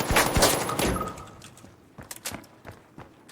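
Gunfire from The Finals video game: a loud burst of shots up front, then a few sharper, quieter impacts and thuds of a quick melee attack, with no talking.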